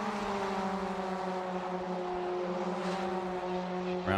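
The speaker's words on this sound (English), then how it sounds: "Around turn 7 and 8, you can hear just how much speed these cars can carry." Mazda MX-5 Cup race cars carry speed through turns 7 and 8 at Circuit Zandvoort, a sustained engine drone with steady pitch that swells and shifts slightly as a car passes at moderate distance.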